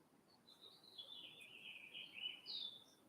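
Birds sing and chirp outdoors during a quiet meditation sitting, a thin continuous high warble with a couple of brighter calls, faint and alone with no voices over it.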